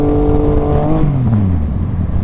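A Yamaha MT-09 motorcycle engine revs hard in first gear with traction control off, its pitch climbing then dipping as the rider shifts, loud and close with no talk.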